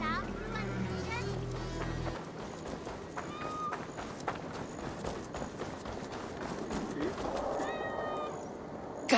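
A cat in the video game Assassin's Creed Valhalla meows several times in short, rising calls, mixed with game ambience, hoofbeats and voices in the background.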